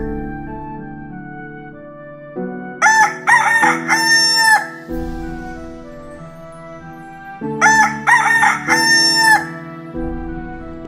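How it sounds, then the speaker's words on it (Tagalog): Two loud bursts of rooster crowing, each a rising then falling cock-a-doodle-doo, ring out near and clear over a steady musical bed, separated by a few seconds. "nagsimulang tumilaok ang tandang"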